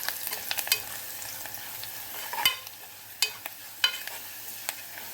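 Chilli garlic fried rice stirred in a pan gives a soft, low sizzle broken by a few sharp scrapes and clinks of the spoon, close and fairly quiet.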